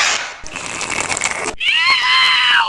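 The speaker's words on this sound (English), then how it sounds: "What was that scream?" A loud, shrill scream sound effect, played in a paper towel ad within the You Don't Know Jack trivia video game, rises after a burst of noise and holds as a piercing cry.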